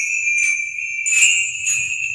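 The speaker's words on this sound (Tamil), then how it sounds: "வாஸ்து பெல். இது வாஸ்து பெல்." Metal vastu bell wind chimes at a Madurai handicraft shop ring in three bright, shimmering bursts with long sustained tones, mild rather than loud, heard up close with no talk.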